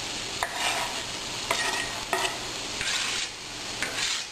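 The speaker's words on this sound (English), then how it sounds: "now we're going to saute" Onions sauté in a little oil in a pan for taco filling, a steady close sizzle broken by several louder scraping bursts as they are stirred.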